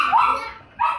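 Two sharp, high-pitched dog barks ring out close by, the first drawn out and the second following after a short pause.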